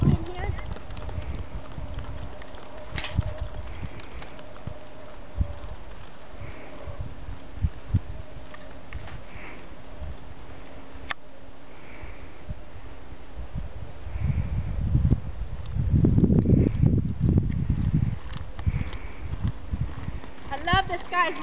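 Mules lope along, their hoofbeats thudding in a soft rhythm beneath a rider's talk, with the footfalls growing louder and more rapid toward the end.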